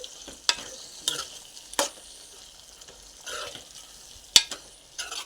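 A spoon stirs brinjal and chana dal curry in a hot pan after coriander powder goes in. Irregular scraping strokes and clacks sound over a soft, steady sizzle, with no voices.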